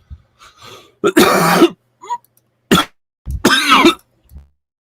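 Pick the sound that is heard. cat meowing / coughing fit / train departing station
coughing fit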